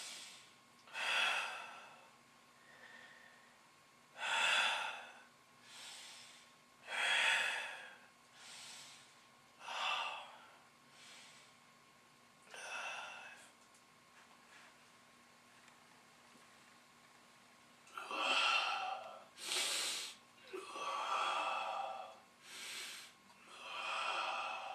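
Slow, deep breaths during a yoga exercise, close and audible, with long airy inhales and exhales repeating at a steady, unhurried pace and a few sharper, quicker breaths near the end.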